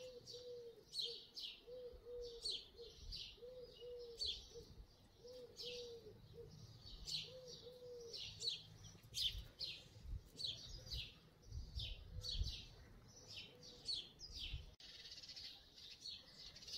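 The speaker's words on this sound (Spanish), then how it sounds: "Y con el canto de los pájaros todavía es más bello." Birds sing in a home garden patio among flowering plants: repeated bright chirping phrases and a steady low dove cooing run throughout, moderately near, with no voices.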